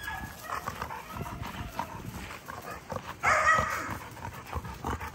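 Puppies somewhere in the background of a room, with faint scattered yips and small barks mixed into low indoor noise, plus a brief louder burst of sound partway through.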